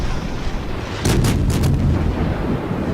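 Warship guns fire in World of Warships, with a burst of loud booming salvos around the middle over a steady rumbling game background.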